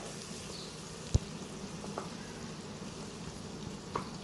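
Sliced onions sautéing in oil for mutton mandi, a soft, steady crackling sizzle heard close but faint, with a couple of isolated sharp pops and no talking.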